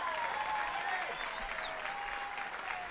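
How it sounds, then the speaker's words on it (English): A stadium crowd at a college softball game between Michigan and UCLA applauds steadily, a broad wash of clapping with faint voices and whistles mixed in. "So applause from everyone in the stadium."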